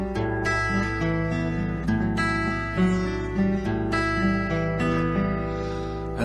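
A folk guitar plays the closing section of Scarborough Fair, fingerpicked notes ringing over a steady bass in a gentle flowing rhythm, close and unaccompanied with no voice.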